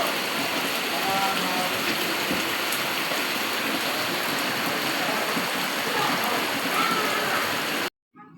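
Heavy downpour roars steadily over pooled water, a dense, loud hiss of rain running without a break until it cuts off at the end.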